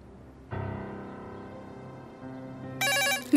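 A telephone rings with a sustained electronic tone that shifts pitch and then jumps to a higher, brighter trill near the end. No one speaks.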